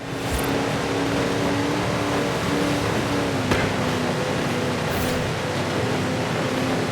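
A 1976 Jeep CJ5 Renegade in Forza Horizon 4 drives off-road with a steady, loud engine drone at a held pitch throughout, with a brief rise near the end and no talk over it.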